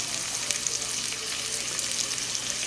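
Beef tenderloin steak frying in a little oil over high heat, a constant close hiss and sizzle with small crackles and no voices.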